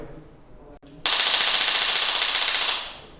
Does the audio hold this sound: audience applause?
no